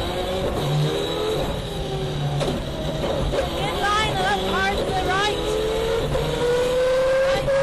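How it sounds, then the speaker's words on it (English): Rally car racing on a gravel stage of the 2003 Eurocables Stages Rally, its engine revving and surging hard close by with shifting pitch and brief tire squeal, under continuous commentary. "the car would stall. But quickly back on the gas, Morris would fight to recover the lost time"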